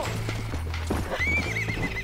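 Horse in Red Dead Redemption on PC galloping with rapid clip-clop hoofbeats, a shrill whinny rising partway through, loud and close over a low droning game background.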